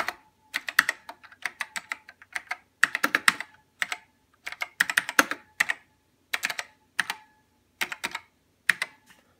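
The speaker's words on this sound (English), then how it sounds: "And just type in letters." Computer keyboard keys tapped in short irregular bursts while entering patch names on a Kemper amp setup, crisp close clicks with brief pauses between groups, no voices.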